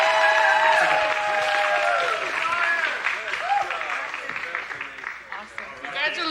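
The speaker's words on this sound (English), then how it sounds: "One more big round of applause for Chef." Audience applause for a chef at a Hawaii culinary event, a full crowd wash at first that thins and fades, with talking and cheering voices mixed over it.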